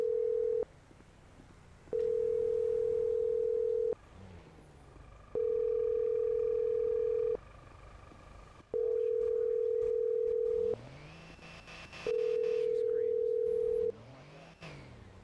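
Telephone tone heard during a call in a video game roleplay, sounding as a steady tone in repeated two-second bursts separated by pauses, five pulses in all, clear and alone.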